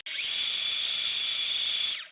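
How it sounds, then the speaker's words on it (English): A blender whirs steadily at high speed while blending a creamy dressing with dill, a loud continuous motor hum that starts abruptly, holds for about two seconds, then cuts off. "Blend it up."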